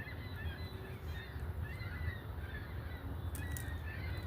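Geese honking repeatedly in a loose, overlapping chorus, moderately distant over a steady low rumble of background noise, with no talk.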